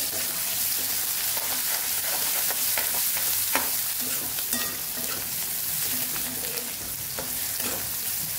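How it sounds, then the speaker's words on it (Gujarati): Onions and chillies sauté in hot oil with asafoetida and curry leaves: a loud, steady sizzle runs throughout, broken by scraping stirs against the pan, and no voice is heard. "ડુંગળી અને મરચાં સતળાય છે"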